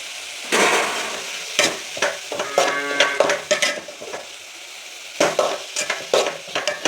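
Curry leaves added to tempering oil beside a beetroot dish crackle and sizzle in sharp bursts, mixed with spatula scrapes and clinks on the pan, close up and without talking.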